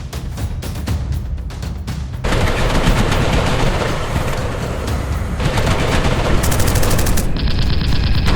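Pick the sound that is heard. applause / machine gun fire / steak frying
machine gun fire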